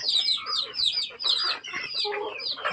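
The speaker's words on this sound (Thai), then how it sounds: "ให้อาหารเป็ดไก่ยำมื้อเช้า" Domestic chickens and ducks cluck steadily at a rural Lao family farm during morning feeding, a busy overlapping chorus of close, fairly loud calls with no talking.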